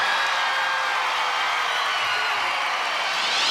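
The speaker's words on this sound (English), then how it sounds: "The crowd giving Joe a standing ovation" An arena crowd at a 1995 Australian Gladiators event cheers in a standing ovation after a record run, a dense, continuous roar of many voices at steady loudness.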